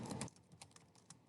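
Keystrokes clatter on a computer keyboard while a citation form is filled in, a quick burst of close clicks followed by sparser, softer taps.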